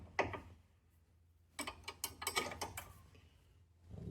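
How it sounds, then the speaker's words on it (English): Two spanners working on an anti-roll bar drop link bolt and nut on an Audi A6 C7, a close metallic clink followed by a run of clicking, scraping ratchet-like ticks. "Can then put a spanner on the bolt and another spanner on the nut."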